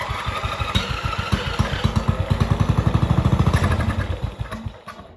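Old MTD Yard Machines lawn mower engine, sitting unused for over five years, running roughly on starting fluid with an unhappy carburetor: loud, close, rapid chugging that speeds up, then sputters and dies away.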